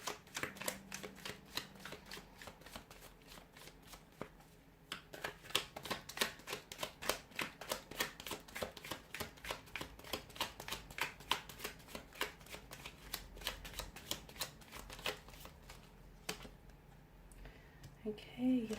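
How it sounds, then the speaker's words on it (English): Tarot cards are shuffled repeatedly, a long run of rapid crisp riffling flutters, close and fairly quiet, with brief pauses between bursts. "let's go ahead, give the cards a shuffle here"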